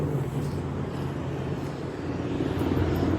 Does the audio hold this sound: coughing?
no